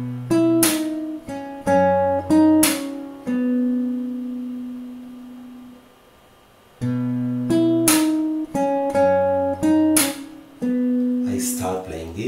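Fingerstyle acoustic guitar plays measure 58 of a song from Your Name, with plucked bass notes, ringing treble notes and percussive slaps, pausing on a sustained note before the phrase repeats, close and clear with no talking.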